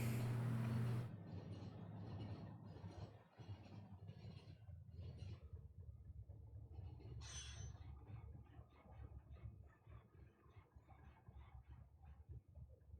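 Refuse train from the factory game Factorio with Seablock mods, a steady rumbling rail run of wheels and carriages, moderately loud and continuous with no talking.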